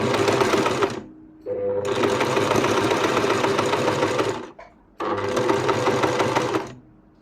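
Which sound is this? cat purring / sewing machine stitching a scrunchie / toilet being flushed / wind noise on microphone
sewing machine stitching a scrunchie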